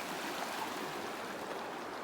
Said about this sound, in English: we have a little water crossing before we get to the trail junction